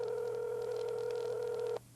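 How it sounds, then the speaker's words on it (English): Steady telephone dialing tone held for nearly two seconds, then cut off abruptly, close and clear with no voices. "It's ringing."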